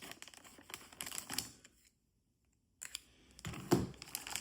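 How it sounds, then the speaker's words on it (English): Crinkly plastic bag from an Estes Mini Honest John model rocket kit being handled and cut open, with sharp rustling bursts, a brief silent gap, then louder close crackling near the end. "this bag is really loud"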